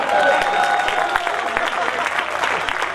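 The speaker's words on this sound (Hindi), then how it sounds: "मजा आ रहा तो सब मिलकर ताली बजाओ।" Audience applause at a Hindi kavi sammelan poetry gathering, dense steady clapping from a crowd filling the whole stretch, with a little talk and crowd noise mixed in.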